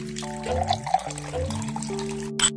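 Water runs and trickles from a tap in a teddy bear bedtime video game, a light splashing flow mixed with bright, tonal game music and chimes.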